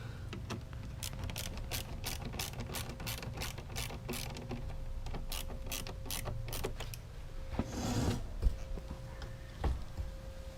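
Screws on a Crown Victoria P71 Police Interceptor seat cover being tightened down, a run of rapid close ratcheting clicks and mechanical ticks with a brief rustle near the end, no voices.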